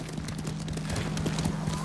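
Horse hooves trot in Ghost of Tsushima, a steady clip-clop rhythm of close, even hoofbeats that continue throughout over a constant game ambience.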